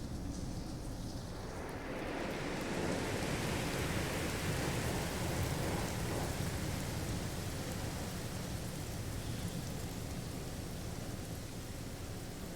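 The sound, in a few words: rain and thunder from a storm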